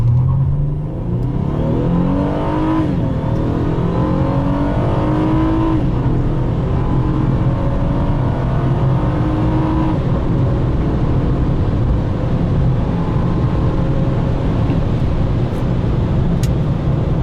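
A 2014 Honda Accord with a KTuned V6 accelerates hard in sport mode, its engine droning loud and close as the revs climb steadily through long pulls with rising whine, and no voices over it.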